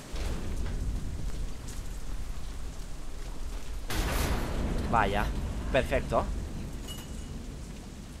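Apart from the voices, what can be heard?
rainstorm with thunder in the video game Deadlight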